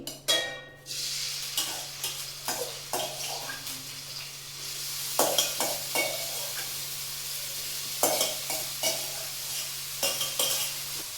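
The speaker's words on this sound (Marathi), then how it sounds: "याच कढईमध्ये तेल टाकायचं आणि बटाटे परतायला टाकून द्यायची." Potatoes frying in oil in a kadai, stirred with a spatula, giving a steady close sizzle broken by repeated scraping strokes and clinks, with a low constant hum underneath.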